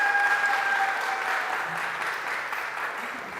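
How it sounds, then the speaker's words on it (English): An audience applauding at a community music gathering, sustained mid-distance clapping that slowly tapers, with a faint tone and murmur underneath. "So just a round of applause for them"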